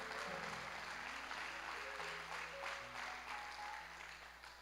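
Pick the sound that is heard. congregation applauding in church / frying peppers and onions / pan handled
congregation applauding in church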